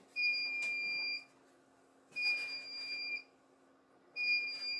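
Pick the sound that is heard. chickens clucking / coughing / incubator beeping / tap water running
incubator beeping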